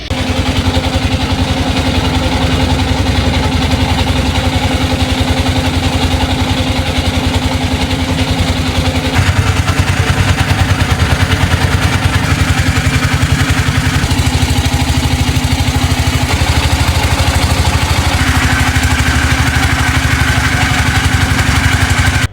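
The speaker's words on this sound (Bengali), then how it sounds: "যেতে যেতে দেখা গেল অনেক ট্রলার ফিরে আসতেছে আবার অনেক ট্রলার যাচ্ছে" A river trawler's engine during the crossing to Sada Pathor, Bholaganj: a loud, close, continuous mechanical drone with a rattling chug, holding steady for the whole stretch without any voices.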